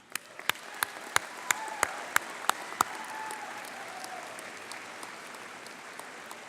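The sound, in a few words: audience applause at convocation ceremony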